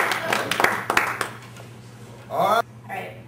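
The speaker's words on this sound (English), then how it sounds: "Give him another round of applause." An open mic crowd gives a round of applause, with scattered claps and cheering up front that thin out, then a brief louder burst of sound before a quieter tail.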